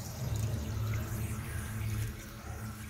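Water running steadily from a tap to rinse a freshly coloured, silvery-grey piece, a continuous close splashing flow with a low hum underneath.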